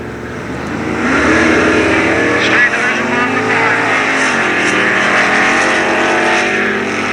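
Ford Mustang drag racing car accelerating at a 1986 UK drag strip at North Weald, a loud sustained engine roar rising in pitch as it pulls away, with a commentator talking over it.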